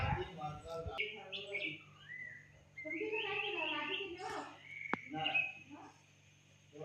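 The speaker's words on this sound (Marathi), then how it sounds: "पक्ष्यांचे आवाज." Birds chirp and tweet in scattered bursts at moderate distance on a Konkan morning around 7, with a voice speaking briefly and a sharp click partway through.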